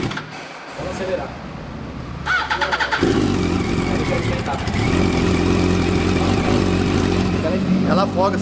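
A small motorcycle engine, around 105 cc, starts with a few sputters, then settles into a loud, close, continuous revving drone that holds steady with slight throttle swells to the end.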